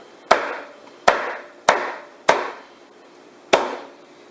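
A cleaver chops through a whole roast duck in five sharp, heavy strikes on a cutting board, each a crisp thwack with a short ringing decay, spaced roughly evenly and heard up close without talk.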